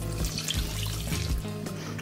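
Lukewarm water is poured into a bowl of bread dough ingredients with seeds, making a close, continuous splashing trickle without any talking.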